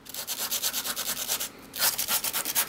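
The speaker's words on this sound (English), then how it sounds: "I'm just very, very lightly sanding" Light, rhythmic rubbing of a sanding block over cardstock, quick even strokes close up, with a brief pause before the scraping resumes.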